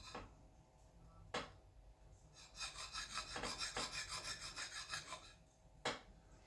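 An axe edge rubbed on a diamond stone to take off the burr: quiet, rhythmic rasping strokes in a quick run, set off by a few sharp knocks, close and faint.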